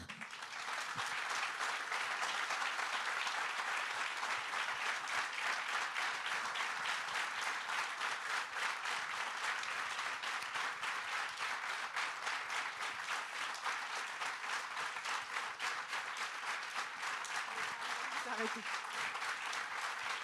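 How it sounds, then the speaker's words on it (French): Sustained applause from an audience at a political gathering of ecologists hosting firefighters, steady and dense throughout, with faint voices underneath near the end. "on peut aussi les applaudir"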